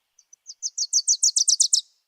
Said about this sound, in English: The Wilson's Warbler